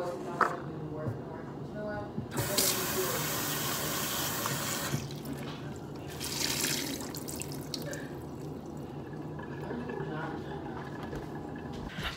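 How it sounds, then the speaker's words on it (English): Water runs from a kitchen faucet into a sink while fruit is rinsed, a steady close splashing and trickling that shifts as the stream hits the fruit, with someone talking over it. "I gotta rinse my fruit back off because it's all on the couch."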